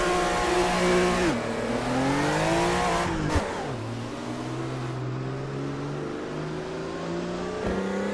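A drift car engine in the Assetto Corsa racing game revs and shifts, pitch climbing then dropping at each gear change, a steady loud drone without speech.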